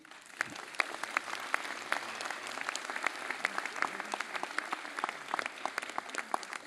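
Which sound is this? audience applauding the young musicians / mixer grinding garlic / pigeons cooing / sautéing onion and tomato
audience applauding the young musicians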